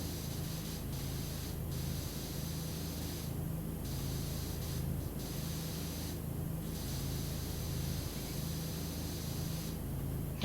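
A pressure washer sprays steadily in PowerWash Simulator, a constant loud hiss with a low hum beneath and brief pauses breaking the stream now and then, with no voices.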